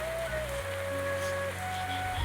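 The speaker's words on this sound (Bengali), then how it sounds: "দেখতেই পাচ্ছেন একদম বৃষ্টি পড়তেছে" Rain falls steadily outdoors on wet surfaces, a continuous hiss heard alongside a steady tonal hum and faint background noise throughout.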